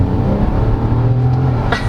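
A 2022 Nissan Almera VL Turbo N-Sport with a CVT, its turbocharged engine accelerating in a loud, steady, rising drone heard from close by, with no talk over it.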